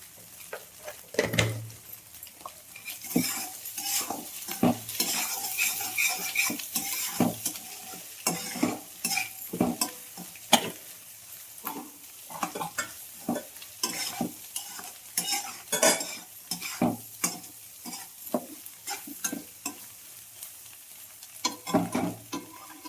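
Rice for egg fried rice being stir-fried in a pan, with steady sizzling and frequent scraping, clattering strokes of a spoon or spatula against the metal, close and fairly loud throughout, with no talking.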